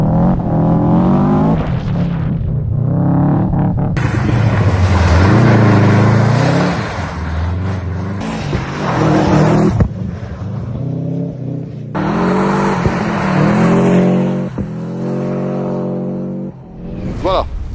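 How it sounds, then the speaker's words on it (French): Subaru rally car driven hard, its engine revving loudly and continuously with rising and falling pitch as it accelerates and shifts, close and dominant throughout. "Je vous mets quelques extraits de ce que ce monsieur fait avec sa Subaru."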